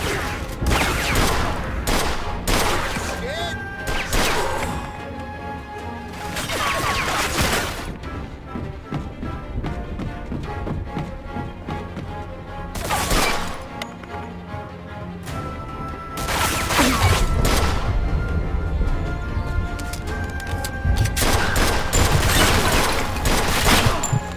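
Dense, sustained gunfire in the Mafia II video game, with repeated loud shots and bursts layered over crashes and impacts, continuous and close for over twenty seconds.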